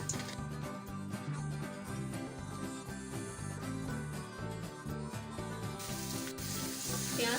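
Onions fry in a couple of tablespoons of oil for mutton pulao, giving a steady, continuous sizzle under rhythmic, music-like backing throughout.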